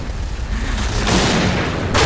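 An explosion in the shooter game Point Blank lands as loud, broad booming bursts over a dense, rumbling background of game noise, with a second blast shortly after the first.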